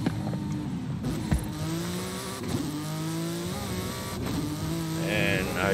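A car races along a snowy winter raceway in Forza Horizon 5, its engine droning and revving close up with rising and falling pitch through gear changes, loud and continuous.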